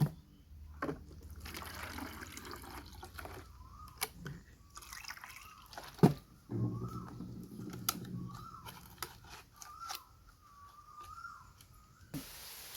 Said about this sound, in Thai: พลูบราซิล ใส่น้ำเลย